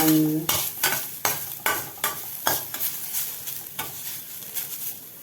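Radish sautéing in a pan with sugar, a close series of sharp stirring scrapes and tosses over a steady soft sizzle, repeating roughly every second with no voices.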